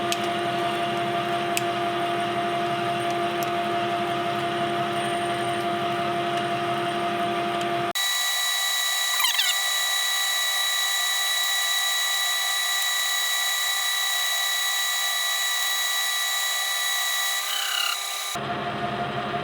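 A Clausing lathe drones steadily while taking a cut on metal, its tonal whine shifting sharply partway through and then returning near the end. The machine runs close and loud throughout, with no talk.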